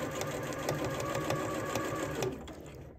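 Sewing machine running steadily as it stitches a bodice, a dense rapid needle rhythm close up for most of the stretch before slowing and stopping near the end, with no talk over it.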